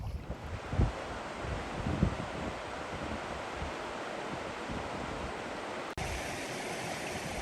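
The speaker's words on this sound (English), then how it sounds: "It's kind of windy." Steady outdoor wind rushes and buffets a microphone beside a waterfall, with broad noisy rumble and a couple of louder gusts; rushing water may blend in beneath.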